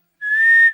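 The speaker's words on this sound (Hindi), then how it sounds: "किसने बजाई सीटी?" A single sharp whistle is blown near the start of a tense scene on a road trip, one steady high tone that holds strongly for about half a second before cutting off, with no talk over it.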